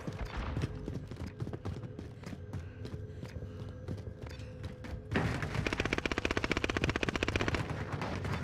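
Rapid gunfire crackles through a Modern Warfare Warzone match, bursts of shots under game noise that jump into a louder, denser volley midway and keep pounding to the end.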